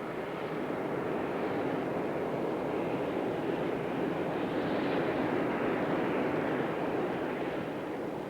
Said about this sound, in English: The physical link between the European partners is the Super Guppy, a very remarkable transporter.